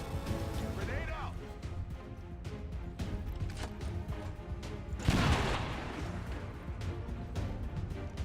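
A grenade blast followed by gunfire in the turn-based strategy game Long War 2, with a broad explosive burst near the middle over a steady game soundscape and a talking voice.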